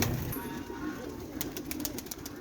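A prized champion pigeon coos in low murmuring tones among a fancier's flock, with faint rustling and a few light ticks nearby and almost no talk.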